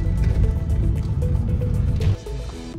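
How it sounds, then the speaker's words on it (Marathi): A small waterfall formed by heavy monsoon rain near Ratnagiri in the Konkan rushes steadily and close by, a continuous gurgling wash of water that dips slightly in level near the end. "बघा आता छोटासा धबधबा तयार झालाय."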